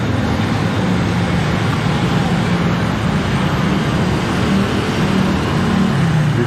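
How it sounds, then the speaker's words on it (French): Busy street traffic and roadworks in Bangkok's Pratunam district on a hot day form a loud, constant roar of passing vehicles and engine rumble, dense and unbroken throughout. "Des travaux, beaucoup de circulation."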